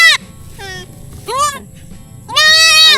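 A small goat bleats three times close by, each call a wavering nasal cry, the last one loudest and longest, over a low background rumble.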